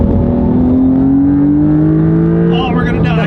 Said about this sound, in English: the cabin noise from a Porsche is so good